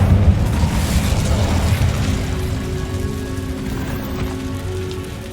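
Incendio fire spell cast in the Hogwarts Legacy video game: a loud, dense roaring whoosh with a low rumbling body and crackling texture that stays steady for about five seconds, fading slightly toward the end, with no talk.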